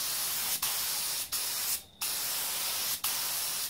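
A spray gun lays fine coats of paint on a motorcycle fuel tank in four steady hissing bursts, each broken off by a brief pause, loud and close with no talking.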